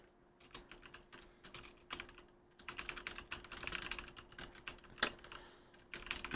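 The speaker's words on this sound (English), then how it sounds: "If you hear me typing" Quick, uneven keystrokes on a computer keyboard clatter close by, in bursts with short pauses, while someone looks up Magic cards online; no one speaks.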